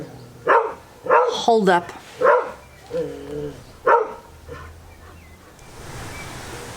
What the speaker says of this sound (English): there's my old dog barking